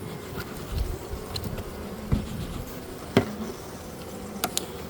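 Honeybees hum steadily around an open hive during an early-spring inspection in Melbourne, a close, continuous drone with a few brief knocks and clicks from handling the equipment.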